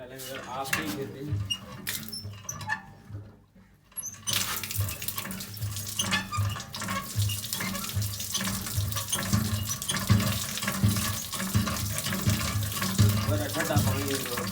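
Water runs from a tap into a washroom container, a continuous splashing rush that fills in over time. It stops briefly about three seconds in, then resumes louder and close, with occasional squeaks and clinks.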